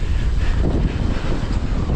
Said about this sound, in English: That's windy and cold.